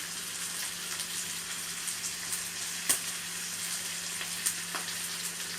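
Country chicken frying in a pan for Andhra naatu kodi fry, giving a dense, even sizzle that holds steady, with a few faint clicks of a spoon. The sound is close, and no one talks.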